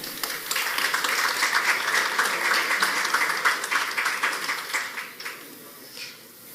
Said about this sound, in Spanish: Recibo con el aplauso de ustedes a Francisco Alberto Salvador Salazar.